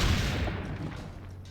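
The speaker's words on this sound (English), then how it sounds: "Our first cannon action in the entire series." A single loud cannon boom from the video game Assassin's Creed Brotherhood, with a broad blast at the start, followed by a long rumbling decay; no talking.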